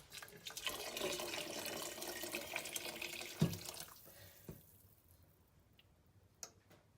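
Chicken broth poured into a soup pot for Greek chicken soup with rice, a steady liquid stream that fades out partway, followed by a few sharp clinks and taps.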